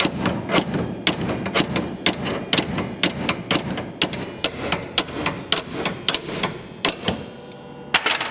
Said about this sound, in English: then I'll try to hammer it forward to kind of break some stuff loose